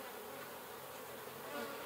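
Bees hum inside an opened horizontal beehive just after winter, a faint, continuous close buzz of many insects without talk.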